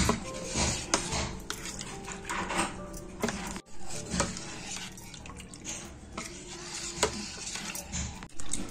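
A spoon scraping and knocking around a pot of horsegram flour mixture, irregular clinks and scrapes with soft wet stirring, close and fairly quiet, with no voices.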